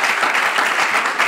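Dense, steady audience applause at a televised quiz show, loud and continuous with no pause across the short stretch.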